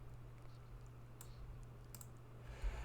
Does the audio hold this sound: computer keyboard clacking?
yes